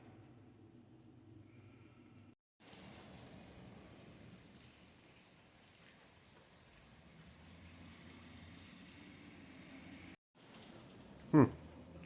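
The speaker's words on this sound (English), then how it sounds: "Looks like rain." Steady rain hisses and patters without a break for several seconds while trout fishing in the early morning, fairly soft and even, with a short sharp knock near the end.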